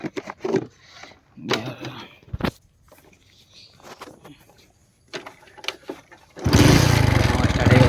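A motorbike engine catches and starts, running loud and steady near the listener for the last moments after a quiet stretch of scattered knocks, footsteps and brief voices.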